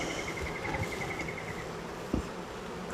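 Honeybees buzz around an opened hive as it is being split and reassembled, a continuous close insect drone with a steady whine, joined by a few soft knocks and a brief thump near the end.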